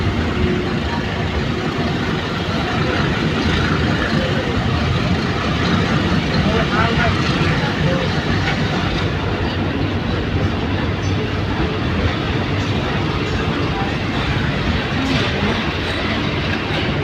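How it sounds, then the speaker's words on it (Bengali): Surma Mail, a small local train in Bangladesh, rolling into Tongi junction: a steady, loud rumble of wheels and carriages with some clickety-clack, heard continuously from on board, with voices faintly mixed in. "টঙ্গি জংশনে প্রবেশ করেছে ট্রেন"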